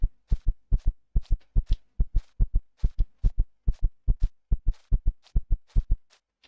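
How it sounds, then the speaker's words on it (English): Steady, regular heartbeat from the video game Empyrion - Galactic Survival, a clear double thump repeating about three times a second for several seconds, loud and alone with no voices over it. "Listen to that heartbeat."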